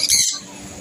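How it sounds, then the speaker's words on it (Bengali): A single loud, harsh squawk from an eclectus parrot at a bird market, close and brief, trailing off into quieter background noise. "Eclectus parrot."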